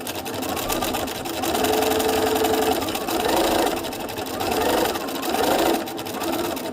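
A sewing machine stitches through a collage print, its loud, close motor whirring in steady surges that start and stop every second or so.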